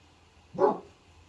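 A single short dog bark rings out once at a moderate distance over quiet room tone, then fades back to near silence.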